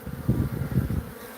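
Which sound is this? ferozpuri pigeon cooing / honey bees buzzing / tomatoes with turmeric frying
honey bees buzzing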